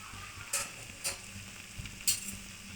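Spoon stirring boiled banana flower, potato and chickpeas in a pot, giving a few soft, separate scraping clacks over a low, steady simmer, close and fairly quiet with no talking.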